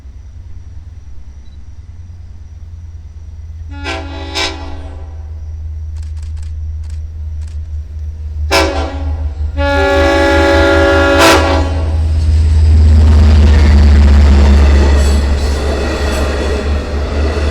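A Long Island Rail Road commuter train rumbles in and sounds its horn in several blasts, a short one then longer loud ones, while the heavy rolling and rumble grow louder up close.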